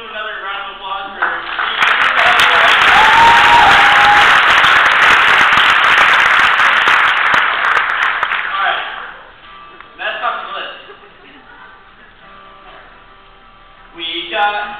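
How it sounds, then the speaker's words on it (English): An audience applauds for a group of teachers: a swell of dense clapping builds and holds for several seconds, then fades, with a voice speaking over a hum before and after. "let's give them another round of applause for"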